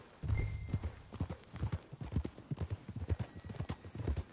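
Horse hooves clip-clopping at a steady riding pace in the Red Dead Redemption 2 video game, a regular rhythmic series of moderately loud thuds over faint background ambience.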